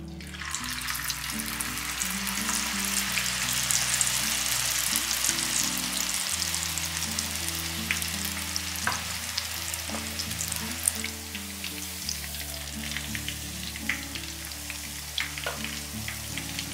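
Crispy batter cakes fry in hot oil with a continuous dense sizzle and crackle, steady throughout, alongside low background music tones.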